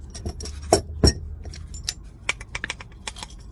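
Camping bowls are handled for puffed rice, giving a series of sharp clinks and light clatters at close range, scattered irregularly with two louder knocks early on.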